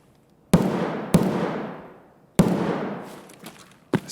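Gunfire in the video game Escape from Tarkov: four loud, close shots with a long echoing decay after each, spaced irregularly, the last cut short.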